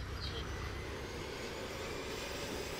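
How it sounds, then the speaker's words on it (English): A fixed-wing airplane drones overhead in the video game DayZ, a faint, steady engine rumble at a distance, heard alone. "Well, that plane looks high."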